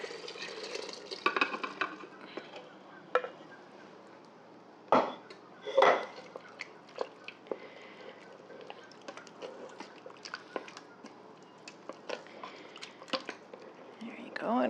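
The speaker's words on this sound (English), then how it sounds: "the last thing that I'm going to do here is add the meat back in." Browned beef and its juices stirred back into a simmering stroganoff sauce in a pan, soft scraping and sloshing with a few sharper utensil knocks against the pan, heard quietly and intermittently over a long stretch.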